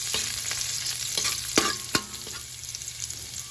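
Onion sautéing in hot cooking oil for a sardine dish, a steady low sizzle broken by a few sharper clinks and scrapes of stirring near the middle, close by with no talk.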